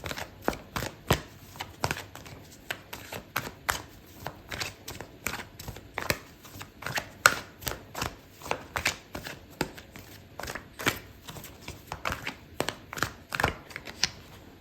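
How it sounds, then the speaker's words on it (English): Tarot cards are shuffled by hand in a steady series of quick, crisp riffles and taps, close up and fairly quiet, continuing with short pauses for about fifteen seconds without any talking. "I'm going to pull out another card for you"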